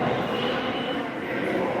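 A subway train rumbles steadily in a station, a loud continuous underground roar with faint wheel squeal and no clear voices.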